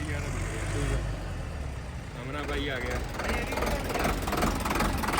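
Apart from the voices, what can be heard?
tractor engine running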